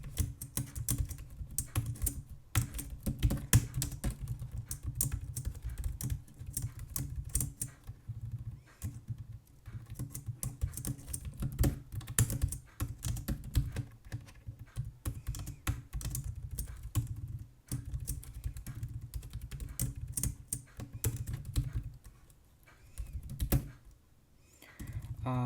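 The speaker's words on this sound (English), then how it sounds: "I guess I'm just typing so crazily." Fast, continuous typing on a computer keyboard: dense, rapid key clicks sustained for about twenty-five seconds with only a few brief pauses, close and moderately quiet.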